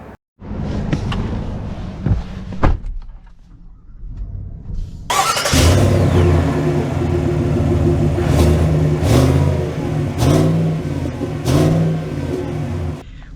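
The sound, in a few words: 2024 Chevy Tahoe Z71 SUV driving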